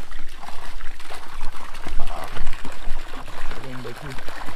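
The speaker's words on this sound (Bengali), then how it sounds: "এই যে পাহাড়ের যে জলটা আসছে, এই জলেই এখানে মাছ চাষ করার জন্য এই জায়গাটা তৈরি করা হয়েছে।" Mountain stream water pours steadily into fish ponds at a hillside homestay village in Sikkim, a loud continuous gushing and trickling close by, with a voice talking over it.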